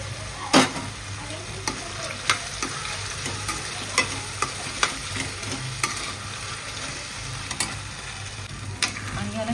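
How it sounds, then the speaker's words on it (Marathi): Fried potatoes being stirred into potato chili in a pan, with a steady soft sizzle and repeated light clicks and scrapes of a utensil against the pan, close and alone without talk. "आणि ह्याच्यामध्ये मी जे आलू फ्राय केलेले आहेत ते मी ह्याच्यामध्ये घालेन."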